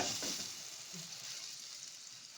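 Eggless rose cookies fry in hot oil, giving a continuous dense sizzle and bubbling, close and even, with no voices.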